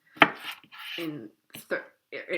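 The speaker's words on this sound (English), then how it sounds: "I'm just cutting the lemons into wedges." A knife cuts lemons into wedges on a board, giving a sharp chop followed by several short scraping and slicing strokes in a quiet room.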